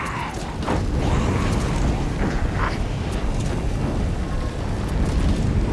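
An alchemist's fire explosion in Baldur's Gate 3: a loud, continuous roaring, crackling burst of fire that fills the whole stretch, with low rumble and creaking mechanical textures.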